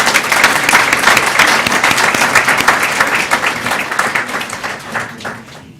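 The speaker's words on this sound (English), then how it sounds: "So let's give them a big round of applause." A school board meeting audience gives loud, dense applause for a student chorus and its director, many hands clapping steadily before fading near the end.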